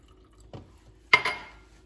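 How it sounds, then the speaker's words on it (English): Water added to a spinach mixture in a blender while making palak paneer, heard as two short, close splashes in an otherwise quiet kitchen, with no talk. "we put the whole mixture in our blender, add a little bit of water to it"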